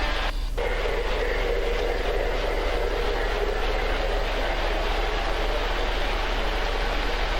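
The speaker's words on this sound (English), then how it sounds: "it's so relaxing to hear them going down the track" Lionel model trains roll along their track in a steady, continuous rumble that stays even in volume throughout, with no talking.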